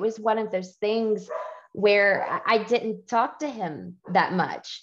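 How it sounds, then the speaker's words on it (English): Household dogs bark and yip in the background while a person talks steadily over them for the whole stretch. "You can probably hear my gremlin dogs in the background"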